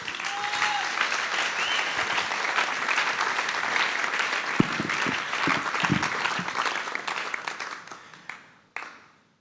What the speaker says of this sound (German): Einen Applaus